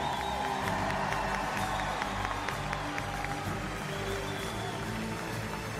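Basketball arena crowd at a 2021 championship ring and banner ceremony, clapping and cheering steadily and loudly throughout, with scattered whoops rising from the sustained applause.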